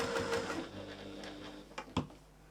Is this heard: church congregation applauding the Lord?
no